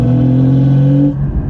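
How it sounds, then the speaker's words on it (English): A tuned car engine in third gear revs hard with a strong steady drone that holds for about a second, then drops off into a lower rumbling idle, its note at times resembling a turbo and at times a V8. "It has all sort of sounds. It sounds like a turbo. Sometimes it sounds like a V8."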